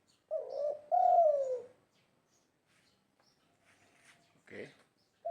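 A caged spotted dove (derkuku tekukur) gives two close, clear cooing notes, the second longer, then a short soft coo after a quiet pause.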